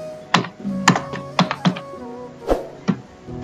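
English text typed on a computer keyboard, about ten distinct, fairly loud keystrokes spaced unevenly at close range, each a crisp tap with a dull thunk.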